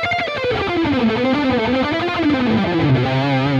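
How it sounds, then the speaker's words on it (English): Clean alternate picking on a distorted electric guitar, a steady run of distinct notes moving across the strings with smooth transitions, loud and alone without any talk. "you can hear each note clearly and you can't really hear when I'm switching between the strings"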